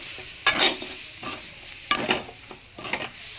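Meal maker fry, soya chunks tossed with coriander and masala in a hot pan, three distinct scraping stirs with a spatula over a steady low sizzle, close and clear with no talking.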